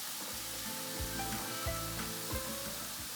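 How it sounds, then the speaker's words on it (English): Steady sizzling from pork ribs frying without oil in a pan over medium-low heat, a continuous crackly hiss with a few soft knocks and shifts as the ribs move, close by. "frying the ribs slowly over medium to low heat"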